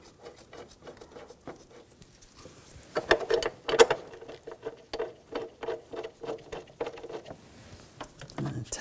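Ratchet clicking close by as bolts are run in on a 2007-2013 BMW X5 3.0L inline-six during a crankshaft position sensor job, quick light bursts of clicks that grow into a steady, louder rhythmic ratcheting.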